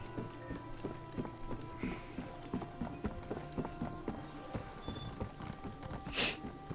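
Horse hooves in Elder Scrolls Online clip-clop at a steady walking rhythm, close and fairly quiet, with a brief brighter rustle near the end.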